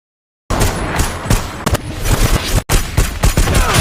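Gunfire in a battle scene from the action film Plane, where a military team uses sniper rifles. Rapid, loud overlapping shots and bursts come close together after a brief silence, with one short break in the firing.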